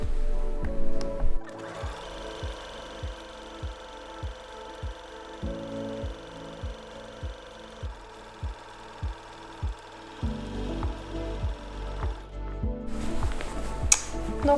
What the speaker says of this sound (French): on va faire une couture au point zigzag tout autour.